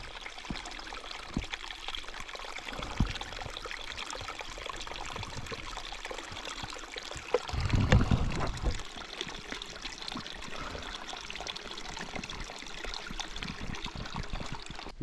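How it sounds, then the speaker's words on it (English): Fresh spring water trickles and pours steadily in a Scottish Highland wood, a continuous close liquid stream with a brief louder splash in the middle. "I finally managed to find some fresh spring water"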